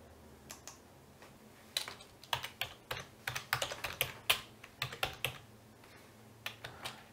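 Close keystrokes on a computer keyboard, tapped in quick irregular bursts with short pauses, no voices.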